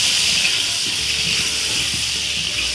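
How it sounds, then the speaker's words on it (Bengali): Potato pieces fry in a pan for a Bangla-style chicken curry with chui jhal, giving a loud, steady, close hiss of hot oil that holds evenly throughout with no voices. "এবার আলুটা ভালো করে ভেজে নেব।"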